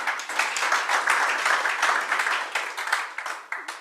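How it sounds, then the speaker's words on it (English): Audience clapping for panelists at the close of a panel discussion on countering extortion in South Africa: dense, steady applause that holds for about four seconds, moderately loud and with no talk over it. "Another round of applause for our panelists."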